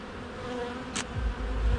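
Honey bees buzz in a steady, close hum while a honey super on a hive is being inspected, with a brief higher rustle partway through and no talking.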